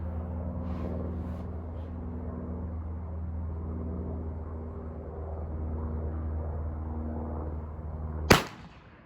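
An 1861 Springfield percussion-cap rifle musket fires once near the end: a single sharp, loud crack cuts through a steady low background hum after a long quiet stretch.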